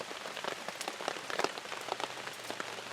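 Steady rain patters on surfaces outdoors during a storm, a dense continuous hiss broken by brighter scattered drops and taps throughout.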